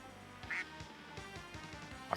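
One clear duck quack, then a brief fainter squawk near the end, over low rhythmic background thumps and no talking.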